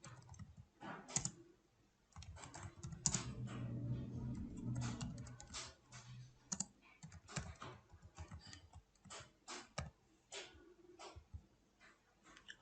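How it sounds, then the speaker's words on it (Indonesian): Irregular bursts of typing on a computer keyboard with sharp key clicks, close and clear, with short pauses between runs of keystrokes. "kemudian kita lepaskan dan kita mengetik seperti biasa"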